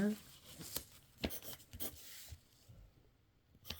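A child writing math answers on paper with a pencil, quiet close scratches and taps in short irregular bursts, with a soft voice in the background.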